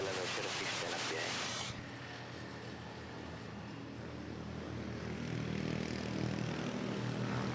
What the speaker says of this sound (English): Philippine Airlines from Lawag, about to touch down, A320.